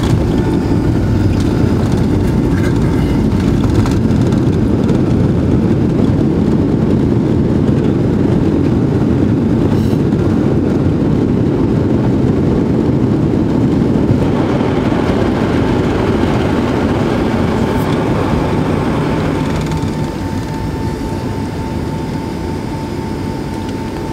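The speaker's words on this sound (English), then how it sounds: "get ready for landing, guys." A Delta airliner on its Atlanta-to-LaGuardia flight, heard from the cabin while landing: a loud, steady engine and airflow roar that shifts in tone partway through and eases slightly toward the end, with no talking.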